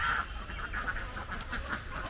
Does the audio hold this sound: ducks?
yes